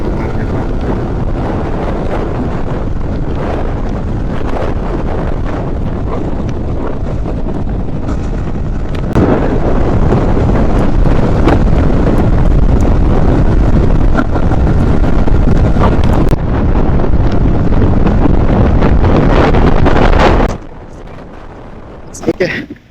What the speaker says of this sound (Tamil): அப்படியே வண்டி நாய்ஸோட என்ஜாய் பண்ணுங்கள்